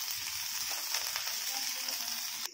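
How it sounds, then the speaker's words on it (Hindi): Carrot and cauliflower stir-fry for vegetable fried rice, making a bright, continuous sizzle close to the pan. Faint stirring rustles sit under it, and the sound drops off abruptly at the very end. "ऐड कर देंगे गोभी, हल्के सारे इसको भी मिला के फ्राई कर लेंगे।"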